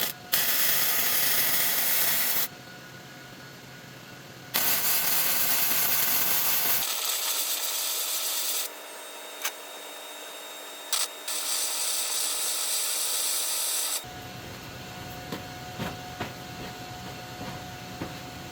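A MIG weld is laid with an Arc Captain MIG145 PRO welder, a loud, steady crackling buzz in long bursts that start and stop abruptly, with quieter pauses between passes.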